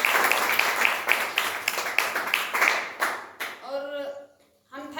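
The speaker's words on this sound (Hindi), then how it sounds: "तो हम चाहते हैं उनके लिए एक बार जोरदार ताली।" An audience bursts into a hearty round of clapping, loud and fast at first, then thinning and fading before a voice begins speaking at the end.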